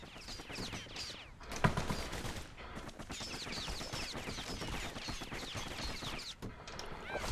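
Rapid gunfire from a young hero's twin guns in the action video game Bastion, dense bursts of shots with a loud crack early on, running almost without pause over a steady game backdrop.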